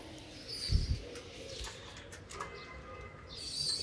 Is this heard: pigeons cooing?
yes